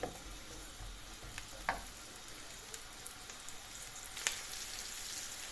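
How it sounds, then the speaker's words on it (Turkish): Chopped onions sautéing in olive oil and a little other oil in a pan, a faint steady sizzle with a few soft clicks of stirring, no voices. "Soğan kavrulurken zeytinyağım yanmasın"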